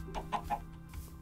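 Chickens in the Minecraft video game give three short, close clucks in quick succession, then a fainter cluck trails off.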